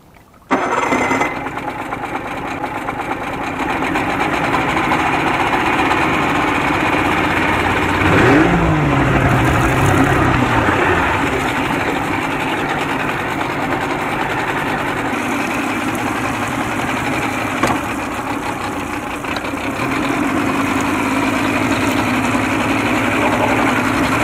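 A 1987 Johnson 70 hp outboard motor that stalls under load runs loud and close, a sustained rough engine drone with a brief rise in pitch midway and small surges, no talk over it.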